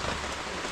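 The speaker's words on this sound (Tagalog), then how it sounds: "Tamang panahon, maulan-ulan." Rain falling in a rural Filipino setting, a dense, even hiss of drops across the whole short stretch, steady and close with no voices.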